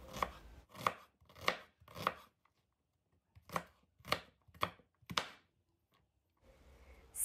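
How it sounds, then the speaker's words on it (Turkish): Knife chopping an onion into small cubes on a cutting board for bulgur pilaf, eight sharp close thuds in two rhythmic bursts separated by a brief pause. "Kuru soğanı küp küp doğrayacağım arkadaşlar."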